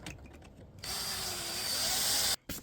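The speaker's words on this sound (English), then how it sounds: "I'm just going to try and drill these rivets out" A power drill whirs steadily for about a second and a half after some faint clicks, drilling out door panel rivets on a Volvo 240, stopping abruptly, then briefly restarting.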